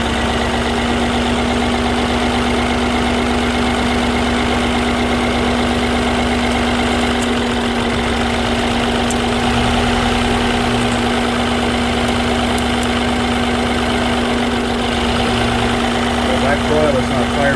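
2014 Mini Cooper engine idling with a misfire and one ignition coil disconnected, a steady, loud, droning idle with a constant hum, continuing unbroken throughout.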